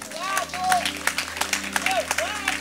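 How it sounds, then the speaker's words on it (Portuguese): Church congregation clapping for the Lord during a Portuguese-language service, scattered claps under a voice speaking over sustained background tones. "Uma salva de palmas para o Senhor."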